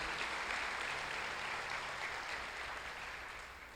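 A church congregation applauding during a worship service, a steady wash of clapping from many hands that holds evenly and slowly fades.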